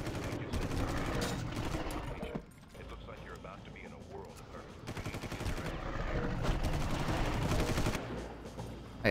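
Gunfire in the Far Cry video game, with repeated shots and rapid bursts crackling over the game's background sound while someone talks.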